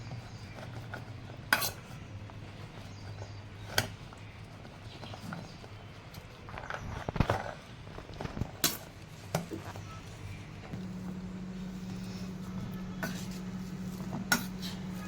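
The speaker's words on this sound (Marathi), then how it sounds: "आता हा जो राजमा मी घेतला, हा आपण स्मॅशरने स्मॅश करून घ्यायचा व्यवस्थित" Cooked kidney beans (rajma) being mashed with a masher produce irregular soft thuds and sharp knocks against the vessel, with quiet pauses between strokes.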